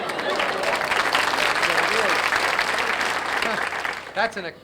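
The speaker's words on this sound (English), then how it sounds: "That's a courtesy applause" A studio audience gives a short burst of courtesy applause at a comedy variety show. The clapping is dense and steady, then thins out as a voice speaks over the tail end.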